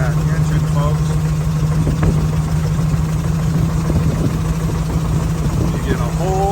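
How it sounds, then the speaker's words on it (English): A vintage horseless carriage engine runs steadily with a constant low hum and chugging, close and continuous, with people talking over it. "Listen to that engine, folks."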